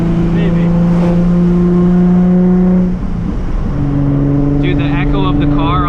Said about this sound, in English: the echo of the car off the bridge